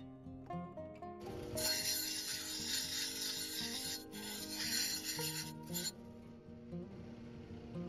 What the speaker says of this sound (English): I'm grinding it down so that it's a nice smooth dome